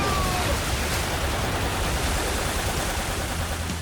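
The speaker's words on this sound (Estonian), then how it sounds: "Veekahuri pomm." A Tobot cartoon water cannon blast roars as a dense, steady rushing spray of water, loud and continuous throughout, with no talk over it.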